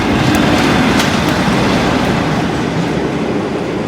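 A green Class 47 locomotive, 47815 Great Western, running light through the High Street level crossing: a loud, close, continuous rumble with rhythmic clickety-clack of wheels over the rails and no speech.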